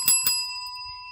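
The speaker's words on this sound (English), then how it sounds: "When you hear the cleanup bell, that is your clue to stop working and to clean up." A classroom cleanup bell is struck twice in quick succession, two bright metallic dings whose clear ringing tone lingers and fades alone in a quiet room.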